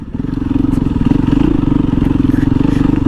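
A Husqvarna dual-sport motorcycle being ridden, its engine a loud, steady, pulsing low thrum close to the microphone, with road clatter and wind mixed in and no gear changes.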